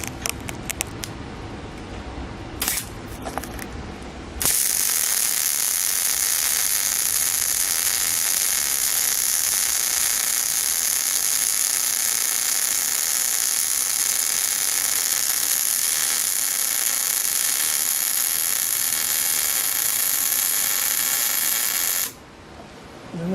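Steady loud crackling hiss of a welder running a continuous bead on roof rack steel for a school bus RV conversion, lasting about eighteen seconds after a few brief clicks, then stopping abruptly.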